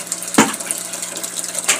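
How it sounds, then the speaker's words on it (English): Water drains out of a washing machine hose into buckets in a steady splashing gush, close and fairly loud, with a sharp clunk near the start. "We let the water run out into the buckets and the bath"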